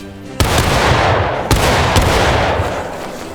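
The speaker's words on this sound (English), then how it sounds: "Rear rank, show them what it means. Aim. Fire." Rear-rank musket volley in the War of Rights video game, a loud ragged crack at the start, then a second burst and a fainter third shot over rolling smoky rumble, with no talk.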